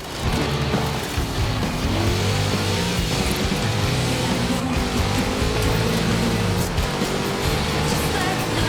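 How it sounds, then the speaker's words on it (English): A big Chevrolet engine roars in Forza Horizon 4 as the car accelerates downhill, a loud sustained racing drone with rising and falling revs and a bit of tire noise, steady from start to finish. "Such power in the big Chevrolet engine."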